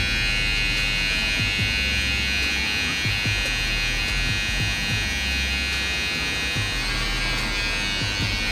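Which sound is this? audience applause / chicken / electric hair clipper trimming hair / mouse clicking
electric hair clipper trimming hair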